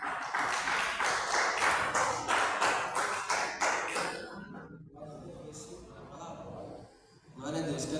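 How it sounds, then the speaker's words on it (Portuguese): A church congregation claps in steady rhythmic unison for several seconds, then the clapping breaks up and fades into scattered, looser applause. "Vamos receber o nosso irmão com as palmas bem alegres para Jesus."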